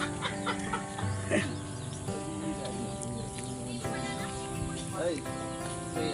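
Native chickens cluck and chatter in a yard, several birds overlapping at moderate distance, with people talking among them and steady background noise.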